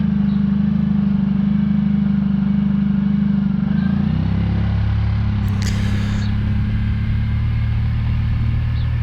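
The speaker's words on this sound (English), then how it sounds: "riding the Suzuki Burgman" Suzuki Burgman 650 scooter being ridden in Launceston, with a steady, loud engine drone throughout that shifts pitch partway as the speed changes, plus constant wind rush.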